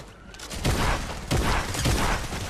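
Gunfire in the Fortnite video game, a few loud bursts of shots across a short stretch, close and dense, with no voices over them.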